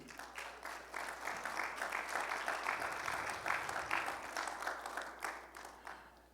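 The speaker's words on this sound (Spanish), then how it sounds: "Dele un fuerte aplauso al Señor." A church congregation applauds the Lord in a steady, dense wash of clapping that holds at an even level throughout, with no voices standing out.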